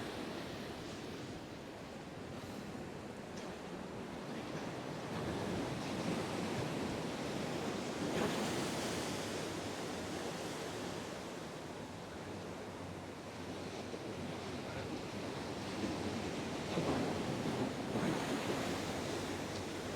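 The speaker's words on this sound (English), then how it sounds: "Oh, listen to the sea." Sea waves wash onto the shore, a steady broadband rushing roar with gentle swells rising and falling, mixed with wind buffeting the microphone, continuous and without speech.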